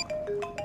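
A short electronic phone ringtone plays a few quick melodic beeps, close and clear with no voices.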